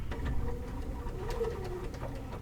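A sewing machine runs steadily while stitching a ruffled pillowcase, giving a continuous low mechanical hum and chatter at moderate loudness.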